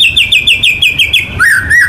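A white-rumped shama (murai batu) songbird sings close and loud, giving a rapid run of repeated bright chirps and then a brief changed phrase, with no voices.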